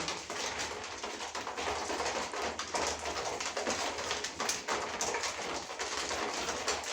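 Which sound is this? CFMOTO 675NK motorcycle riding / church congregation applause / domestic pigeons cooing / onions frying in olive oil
domestic pigeons cooing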